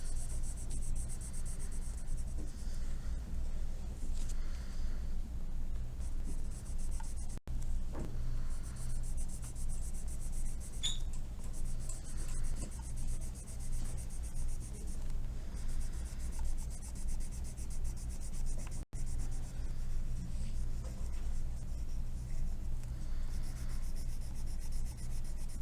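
Black colored pencil rubbed hard across paper in dense, steady scratchy strokes, close and continuous for the whole stretch, with no voices.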